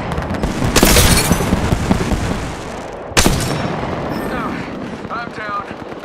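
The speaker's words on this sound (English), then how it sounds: "shots fired, and they're hitting me" Gunfire in Apex Legends: two heavy, booming shot bursts about two seconds apart, each ringing out and decaying, with scattered smaller cracks and game effects around them.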